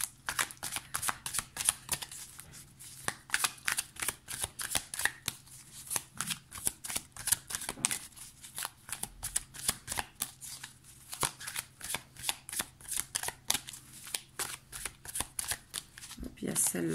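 Tarot cards being shuffled by hand, close and clear, in a long run of quick rhythmic riffles and taps that repeats steadily for the whole stretch.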